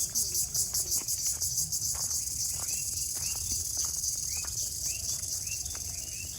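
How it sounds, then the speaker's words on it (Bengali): Crickets chirp in a continuous, high, pulsing trill in the grounds of the CCDB Climate Center resort in Sreepur, Gazipur, with occasional bird calls and a low background rumble underneath. "ঝিঝি পোকার ডাক"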